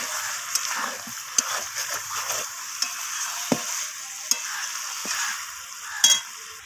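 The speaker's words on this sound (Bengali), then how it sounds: "কষিয়ে নিচ্ছি।" Chicken with fresh coriander leaves sautéed in a pan, a steady sizzle running throughout with scraping spatula strokes and brief clacks scattered over the frying, no talking.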